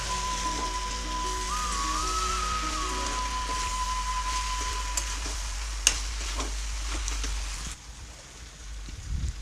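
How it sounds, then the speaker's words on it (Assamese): Food frying in a pan is stirred in a home kitchen, giving a steady, close sizzle with scraping stir noises and one sharp clink, with no talking. "এতিয়া অকণমান লৰাই দিওঁ"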